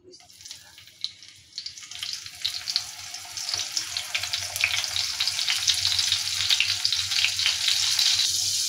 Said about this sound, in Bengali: তো পটলটা আমি একটু দিয়ে দিলাম ভাজতে